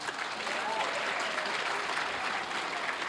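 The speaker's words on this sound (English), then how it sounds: "Give him a hand clap." An audience at a MomoCon 2025 main-stage panel applauds, a steady, dense wash of clapping from a crowd lasting the whole stretch.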